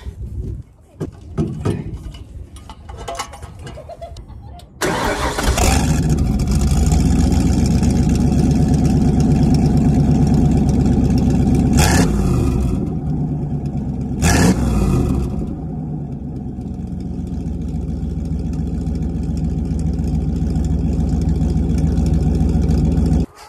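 An OBS Ford truck engine with straight-pipe exhaust through a cutout, muffler removed, roars to life and holds a deep, raw rumble with a couple of sharp revs, after some brief indistinct sounds at the start.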